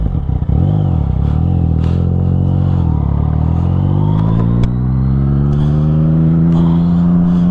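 A 2020 Yamaha MT-09 motorcycle accelerates away, its engine loud and close, climbing through repeated revs and gear changes into a sustained rising drone.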